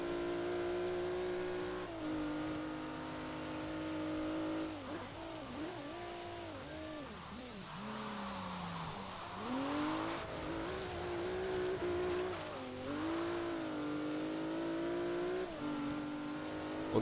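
V6 car engine in the racing game Forza Horizon 3 revs and drops repeatedly as the car accelerates and shifts, a steady loud drone with rising and falling pitch and occasional tire squeal, no talk.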